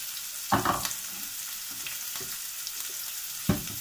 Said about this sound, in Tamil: வெங்காயத்தை இதோட சேர்த்துடலாம் வெங்காயம் நல்லா வதங்கட்டும்